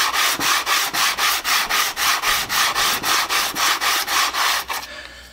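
Steady back-and-forth sanding on wood with 120-grit sandpaper, a quick, even rhythm of about three strokes per second, close and loud, stopping just before the end.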